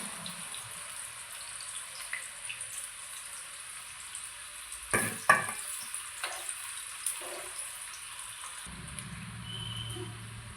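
Homemade potato wafers fry in hot oil, a soft, steady bubbling hiss broken by a few sharp clatters as pieces are lifted out and more dropped in, close and fairly quiet.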